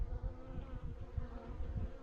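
Honey bees buzz steadily around their hives, a continuous low droning hum from many insects close by, with no talking.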